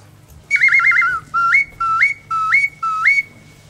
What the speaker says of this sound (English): We use different bird calls to hunt with.